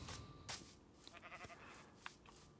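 Sheep bleating in the Minecraft video game, a couple of short wavering bleats over a quiet game background, fairly near and moderately loud.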